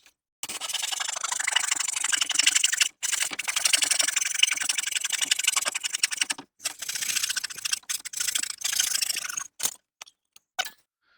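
A typical handsaw cuts through a 5.5-inch-wide wooden fence picket in steady, fast back-and-forth rasping strokes, close and loud, with a few brief pauses before the final strokes.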